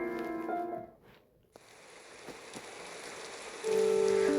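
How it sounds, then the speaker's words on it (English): A light drizzle of rain in the Punishing Gray Raven video game, a soft, steady patter that rises in a faint continuous wash, with tonal music chords sounding at the start and again at the end. "The day of the funeral was met with rain, a light drizzle, yet bone-chilling cold."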